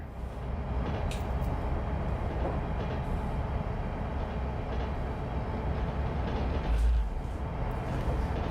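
An interurban train in a train simulator game on a San Francisco to Sacramento route slows toward a stop, giving a steady rolling rumble with faint clicks of the rails and a brief low thump near the end.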